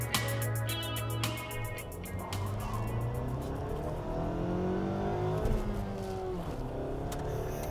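Engine of a 2021 Nissan Sentra SR with a manual gearbox revving up, its pitch then sinking only slowly as the revs hang, with a sharp blip near the end; nearby and continuous, with no talking.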